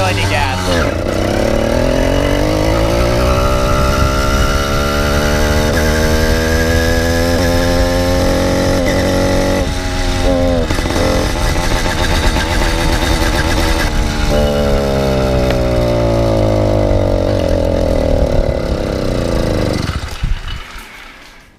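Motorcycle engine fitted with steel wool packed in the exhaust, revving loudly and continuously with rising and falling pitch, close and dominant throughout before cutting off near the end.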